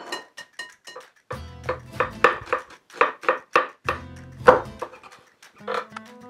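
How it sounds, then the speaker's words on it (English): A kitchen knife shreds cabbage finely on a cutting board, giving a run of quick, close, irregular chops with brief pauses between bursts. "Just going to cut the core out of the cabbage. And I'm just going to cut real fine shreds."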